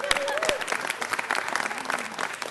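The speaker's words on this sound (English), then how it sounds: "Give Dolores a round of applause." City council meeting audience applauding Dolores, loud, dense clapping with whoops and a raised voice over it throughout the brief burst.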